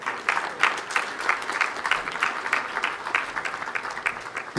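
Audience at a Kenya School of Government centenary morning session applauds a professor, a steady patter of many hands clapping at moderate distance, even and sustained without cheering.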